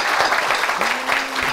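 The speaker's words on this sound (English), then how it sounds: "Another round of applause to Garrett." A late-night talk show studio audience breaks into loud, dense applause that fills the whole moment, with a brief voice tone in the middle.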